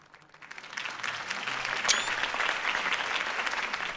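Crowd applause in a Batman video game follows a mayoral campaign speech for Harvey Dent, rising quickly from quiet into a steady, dense clapping that holds at moderate loudness to the end.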